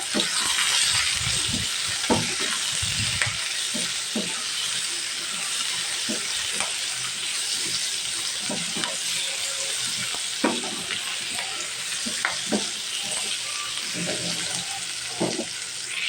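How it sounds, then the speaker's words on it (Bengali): Pumpkin and onion fry together in a pan, a bright steady hiss of oil with scattered spatula knocks and stirring scrapes, close and continuous for the whole stretch. "এখন মিষ্টি কুমড়াটা দিয়েও আমি ভেজে দেবো।"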